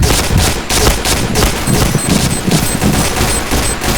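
Loud, continuous automatic gunfire in the Point Blank video game, overlapping shots from several weapons forming a sustained rattling fusillade throughout.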